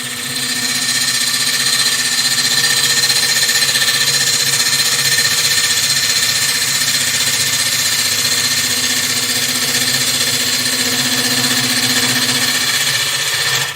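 A wood lathe spins at about 1000 RPM during woodturning, giving a loud, steady hum with a constant tonal whine that runs continuously with no talk.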